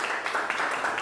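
A classroom of students claps briefly for a classmate's answer in a Catholic religious education lesson, a short burst of soft, fairly even clapping at moderate distance.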